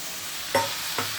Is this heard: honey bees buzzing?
no